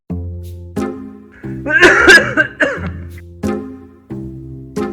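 Several sharp, hacking coughs in a row, close and fairly loud, with short gaps between bursts.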